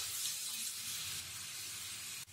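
Garlic sizzling in melted ghee in a pan for garlic bread toast, a steady soft hiss with no voices, faint and fairly even throughout, ending with a brief dip.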